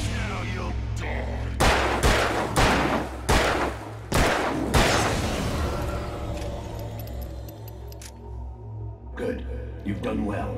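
Series of loud, close gunshots in Alan Wake, about six sharp cracks spaced roughly a second apart, followed by a fading tail, a metallic rattle and a couple of later hits, with game dialogue around them.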